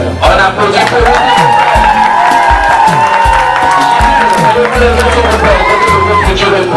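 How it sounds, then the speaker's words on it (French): Wedding guests at a civil marriage ceremony cheer loudly, with whoops, sustained voiced cries and scattered clapping running throughout, close and full. "On applaudit pour vous."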